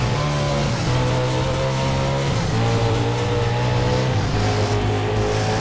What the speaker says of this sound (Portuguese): Ele sofre, ó, porque ele sai raspando tudo, ó.